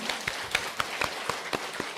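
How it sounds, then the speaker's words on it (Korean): A small group at a Won Buddhist temple gathering claps briefly, light scattered claps with a soft hiss of room noise, fairly faint. "모두를 위해서 한번 박수를 쳐드릴까요?"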